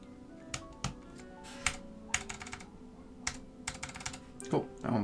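Keys are tested on a Northgate OmniKey 101 keyboard with Alps SKCM Orange switches, bursts of sharp close clicky presses in irregular clusters with short gaps, fairly quiet.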